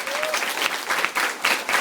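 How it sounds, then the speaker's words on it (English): Audience applause fills a large room at an event, a steady wash of many hands clapping with rhythmic surges, loud and continuous throughout. "I want you to give this guy a huge, huge, huge, huge, huge round of applause."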